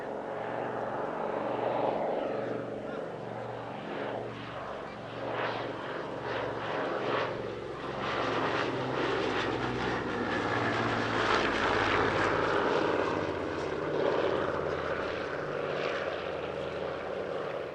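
Vintage propeller aircraft flying at the Shuttleworth airshow, a steady droning engine roar holding throughout with a rising and falling pulse as it passes, fairly distant and continuous with no talk.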